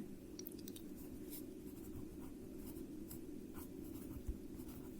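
Pen on paper writing out an interest math problem by hand, a faint, steady scratching with small strokes over a low background hum.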